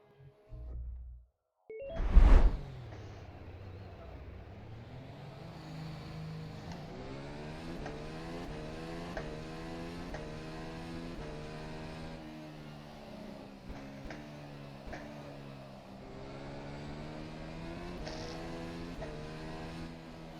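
An F1 2020 FSR race car in the rFactor 2 sim drives at Suzuka. After a couple of sharp bursts, a continuous high engine whine sweeps up and down through the gears for about twenty seconds, with no talking.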